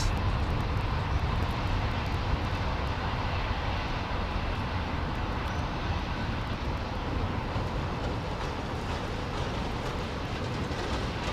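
Air India airliner taxiing at London Heathrow Airport, a continuous low engine rumble and hiss at moderate distance, steady in level with faint clicks scattered through and no talking.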